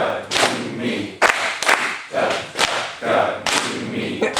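Hands clap out a Carnatic tala cycle, a series of sharp, close claps in a steady counted rhythm, with some hand-wave gaps between strokes.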